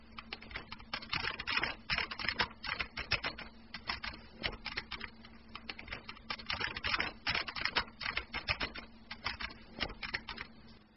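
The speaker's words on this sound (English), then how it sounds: "the sound of the keyboard is actually completely out of sync with the typing" Rapid clattering keystrokes on a computer keyboard, close and fairly quiet, tapping in irregular bursts with short pauses between runs, with no voices.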